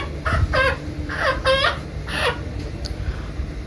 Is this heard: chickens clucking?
yes